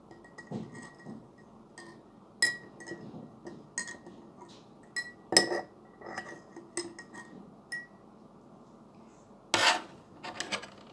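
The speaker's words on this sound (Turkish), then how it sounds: "Biraz tuz koyduk. Şimdi de karıştırıyoruz." A spoon stirring salt into water in a glass, giving scattered light clinks and gritty scraping taps at irregular intervals against a quiet background.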